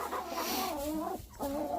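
New hens cluck softly at a homestead coop as they venture outside, a faint, close chorus of short murmuring clucks with a brief pause midway.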